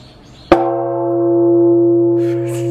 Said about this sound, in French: quand tu sonnes la cloche, c'est grave apaisant